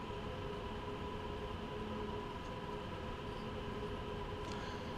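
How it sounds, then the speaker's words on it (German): A train in the Train Sim World 2 video game rumbles past steadily at moderate distance, a continuous rolling drone of wheels and rail with faint tonal hum, no voices over it. "Dann kam jetzt echt ein Zug aus der anderen Seite."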